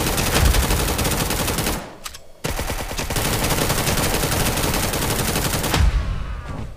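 Rapid bursts of automatic gunfire from a desert war shooter video game fill nearly the whole stretch, loud and dense, with a brief lull partway through before the shooting resumes.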